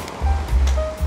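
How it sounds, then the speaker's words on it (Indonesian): Rain falls on a strawberry garden as a steady rushing wash with low, surging rumbles that swell and ease, close and fairly loud, with no voices. "Maaf ya hujan."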